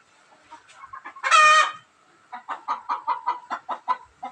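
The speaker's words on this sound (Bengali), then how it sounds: "মুরগিটি জানান দিচ্ছে যে মালিকই ডিম নিয়ে যাও, ডিম নিয়ে যাও।" Hens on a poultry farm cluck in a series of short, rhythmic calls, with one loud, drawn-out squawk in the middle, close by and with no talk.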